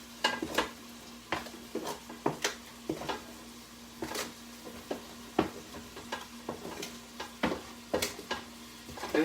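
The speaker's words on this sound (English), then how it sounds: "So in goes all of our roasted vegetables." Oven-roasted vegetables go into a soup pot and are stirred, making a run of irregular spoon knocks and scrapes against the pot over a soft sizzle and a low steady hum, close by with no speech.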